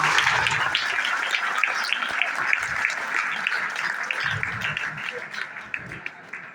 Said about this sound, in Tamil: சரி, அவருக்கு ஒரு பெரிய கைத்தட்டல் கொடுத்துடலாமா?